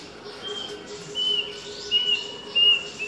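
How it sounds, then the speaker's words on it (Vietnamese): Birds chirp at an outdoor roadside spot in Vietnam, with several thin, high tweets coming in short bursts at moderate distance over a quiet background hum. "Có tiếng chim ở đây."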